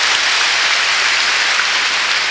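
A congregation applauds during a church worship service, producing a loud, dense, continuous hiss of clapping with no distinct individual claps.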